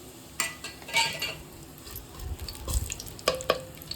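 Cinnamon, cloves and bay leaves dropped into hot oil while cooking mushroom biryani, a low sizzle with scattered clinks and scrapes of a spoon against the pan, close and fairly quiet, no talk.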